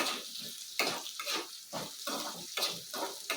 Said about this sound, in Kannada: ಈಗ ಎಣ್ಣೆ ಚೆನ್ನಾಗಿ ಹುರ್ಕೊಳ್ಳೋಣ ನೋಡಿ